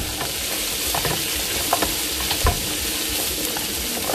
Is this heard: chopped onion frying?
yes